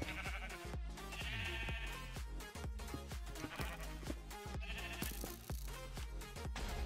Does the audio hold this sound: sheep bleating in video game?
yes